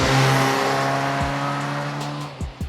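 A front-wheel-drive Honda Civic corners hard, its steady engine drone holding under a rising tire squeal, with a few brief thumps and scrubs near the end.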